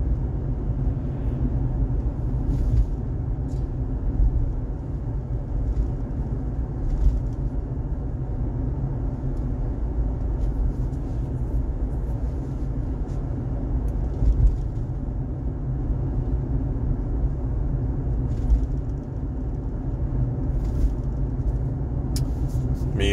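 Steady road rumble inside a Tesla driving with Full Self-Driving engaged at a constant 60 km/h on a cloudy day, with a continuous low drone and a few faint ticks, no voices.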